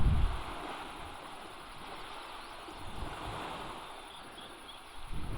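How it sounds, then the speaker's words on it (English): Ocean water along the Big Sur coast washes in a soft, steady hiss of surf with light wind buffeting the microphone, fairly faint and distant with no voices. "I'll shut up so you can hear the water."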